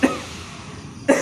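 An imam coughs twice during recitation of the Al-Fatihah prayer in a mosque, one short cough at the start and another about a second later, with a quiet pause between them.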